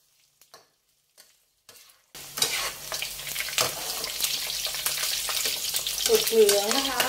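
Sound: pork belly deep frying in oil

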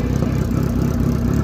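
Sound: motorcycle engine with loud modified aftermarket exhaust

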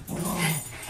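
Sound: dog growling

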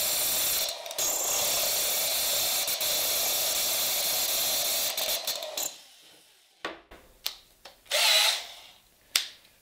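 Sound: drill bit boring into stone tile

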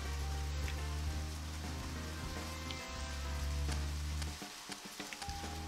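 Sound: rain falling in a video game

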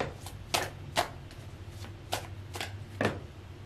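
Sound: shuffling and drawing tarot cards

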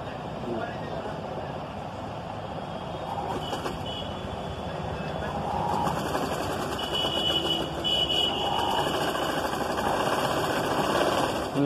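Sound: sewing machine stitching a blouse back neck edge

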